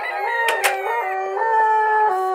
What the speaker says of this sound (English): All those roosters.